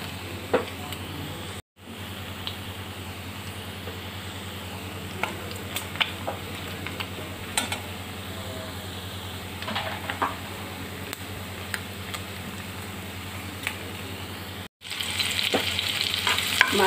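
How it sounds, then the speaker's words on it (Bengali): Fish frying in a pan at home, a steady soft sizzle with small crackles and occasional stirring clicks, continuous and fairly quiet throughout with no talking. "মাছগুলো আমি অল্প আছে মশমশা করে ভেজে নিয়েছি,"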